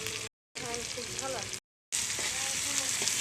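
Spices with turmeric and chili powder frying in oil in a pan give a steady, close sizzle broken by two short silent gaps, with a voice talking faintly over the crackle.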